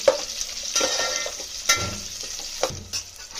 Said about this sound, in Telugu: క్యారెట్, బీన్స్ ముక్కలు, క్యారెట్ ముక్కలు ఒకసారి మిక్స్.